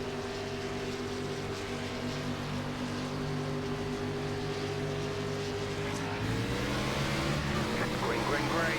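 NASCAR Xfinity race car in iRacing at Indianapolis Raceway Park, engine droning steadily at low speed and then climbing in pitch as it accelerates, with a voice talking over it.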